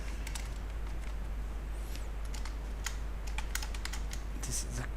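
PHP code being typed on a computer keyboard: a close, steady stream of crisp key clicks, uneven in rhythm, with a low hum underneath and no voices.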